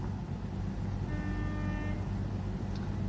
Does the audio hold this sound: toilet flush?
no